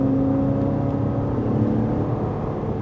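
Ferrari 458 Italia on the track at Fay-de-Bretagne, its engine re-accelerating after braking with a steady, loud, close drone that holds through the whole stretch, no voices on top.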